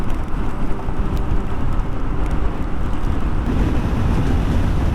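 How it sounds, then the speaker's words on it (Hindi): Steady rain hiss and road spray surround a solo motorcycle ride toward Washington DC, a dense continuous roar with a deep low rumble of wind and engine underneath, no talking. "बारिश फिर से आ रही है"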